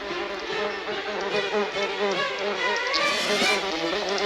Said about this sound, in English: A hornet! Duck!